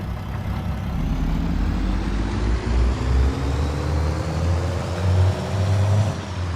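A worn farm truck drives along in Farming Simulator 22, its engine a loud, steady drone that rises slowly in pitch as it gathers speed. A few louder low surges come through, with no one speaking.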